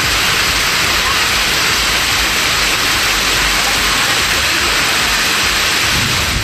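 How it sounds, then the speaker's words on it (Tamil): Heavy rain pours down steadily in Kulithalai, Karur district, Tamil Nadu, with rainwater flooding the roads; a dense, loud, unbroken hiss of downpour continues throughout without voices. "வெளுத்து வாங்கிய மழையால் சாலைகளில் மழைநீர் பெருக்கெடுத்த காட்சிதான் இது."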